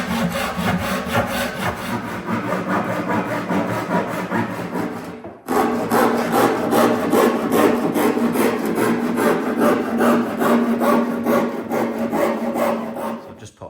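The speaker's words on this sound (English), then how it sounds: "I'm going to start hand cutting this through." A handsaw with a thin curved blade cuts through a plywood tool chest in loud, rapid rasping strokes, pausing briefly midway before resuming the steady back-and-forth sawing.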